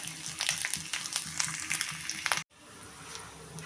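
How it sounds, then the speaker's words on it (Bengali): Chopped ginger crackles and spits in hot oil in a wok, a busy, loud sizzle that cuts off abruptly partway and returns as a softer, quieter fry. "কড়াই তেল আমার গরম হয়ে গেছে এর ভেতরে আমি দিয়ে দিচ্ছি কুচি করে রেখেছিলাম খানিকটা আদা"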